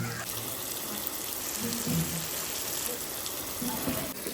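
Continuous splashing rush of water being poured, close and moderately loud, with faint voices in the background.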